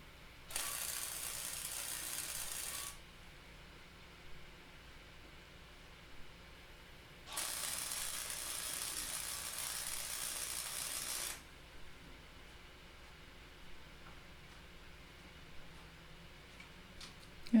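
Two bursts of tack welding a nut onto a steel motorcycle mirror-extender tube, each a steady close crackling hiss lasting a few seconds, separated by quiet pauses with faint clicks.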